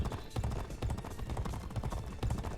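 Horse hooves galloping in the horse racing video game G1 Jockey 4, a fast, steady drumming of hoofbeats at moderate loudness, continuous throughout.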